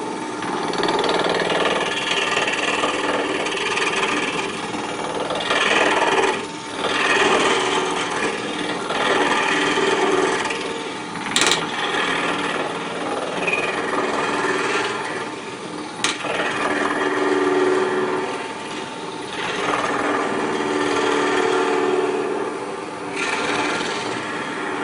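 Green wood spinning on a wood lathe at about 1200 rpm while a tool is anchored on the bevel, giving a continuous rough scraping and rasping hiss with small shifts in intensity over a steady motor hum.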